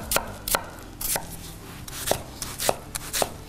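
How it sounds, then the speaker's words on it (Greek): An onion is finely chopped with a knife on a board, giving about a dozen sharp, close taps in a quick, uneven rhythm with no talk over them. "Θα πάρουμε το κρεμμύδι και θα το ψιλοκόψουμε πάρα πολύ καλά."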